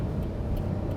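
Suzuki Super Carry kei truck downshifting while turning at an intersection, a steady close engine drone with road rumble in a short burst.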